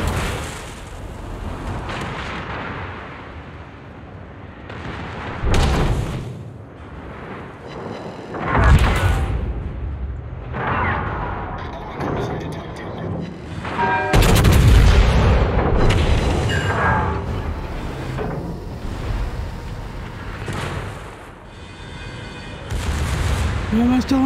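Naval cannons on a sailing ship fire in a game, loud deep booms recurring every few seconds amid crackling fire and continuous voice chatter.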